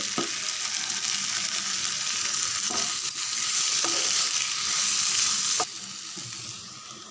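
Brinjal sizzles steadily in an oil-filled pan over low heat, with a loud continuous hiss close by and a few soft scrapes and knocks from stirring, and no talking.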